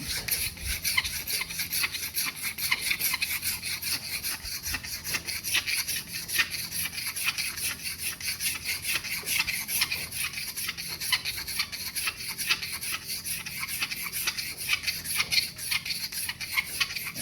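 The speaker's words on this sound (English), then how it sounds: "So I'll actually just run down a little bit. With the rasp, and then tidy up." A hand rasp works an Osage orange wood take-down bow limb in steady, continuous rubbing strokes, a close rasping sound that runs throughout with no talk.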